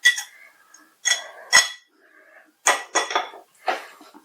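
Spoon strokes stir tuna pickle with fried garlic, ginger and curry leaves in a pan, heard as several separate close scraping and clinking bursts with quiet gaps between them.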